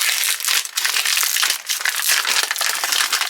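A plasticky, papery Spanish breakfast ration bag crackles and crinkles as it is torn open, the dense rustling continuous and close for several seconds with brief dips.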